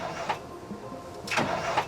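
A Mack Superliner truck engine cranks and tries to start, giving two loud bursts of rough mechanical churning, close and alone, separated by a brief lull.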